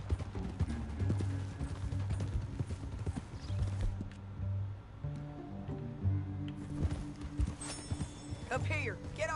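Horse hooves clip-clopping at a steady walking rhythm in the Western video game Red Dead Redemption II, running under a background music bed, with someone talking over the hoofbeats and a brief whinny-like call near the end.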